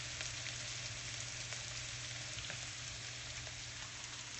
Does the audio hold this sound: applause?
no